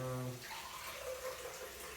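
Water pours steadily from a tap, a brief splashing stream running for about two seconds with no talking.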